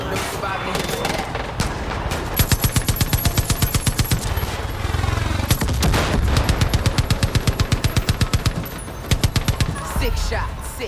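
Rapid automatic gunfire in the video game Far Cry 5, coming in long evenly spaced bursts that are loud and close, with booming impacts and a dense layer of game noise beneath.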